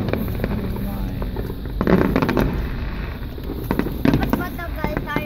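Fireworks at the AlKhobar festival burst and crackle in quick clusters against a steady outdoor rumble, with several sharper bangs, while people talk and exclaim nearby.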